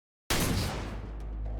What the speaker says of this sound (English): 방금 것은 위협용 사격이었습니다